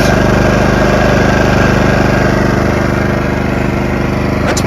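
A PowerSmart portable generator engine drones continuously at close range, a constant loud rumbling hum with no pauses, and a brief clatter near the end.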